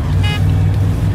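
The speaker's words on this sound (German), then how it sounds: "Mal hupen." Car horn blaring in the video game DayZ during an SUV rally on an airfield, a single honk sounding over a steady low engine drone.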